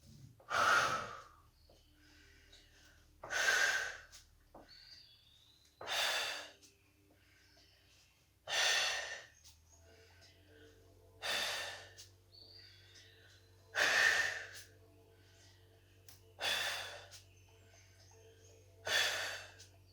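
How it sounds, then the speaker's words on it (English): Eight forceful exhalations spaced evenly a couple of seconds apart, each a breathy rushing burst close to the microphone, made by a person doing a floor exercise that brings one knee forward at a time, with quiet pauses and a faint low hum between breaths. "As the knee comes forward, I want us to exhale."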